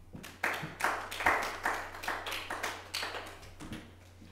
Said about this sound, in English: have another round of applause for Erwynnda